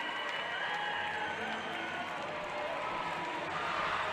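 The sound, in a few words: basketball student section cheering after championship win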